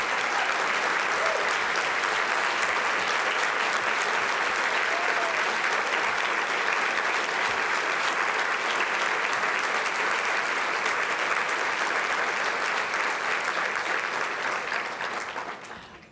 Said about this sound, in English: I would ask all family members to stand so we can thank you with a round of applause.